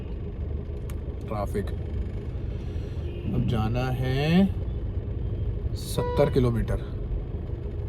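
Road traffic rumbles at a low, steady level beneath someone talking in Hindi, with car engines droning continuously in the background.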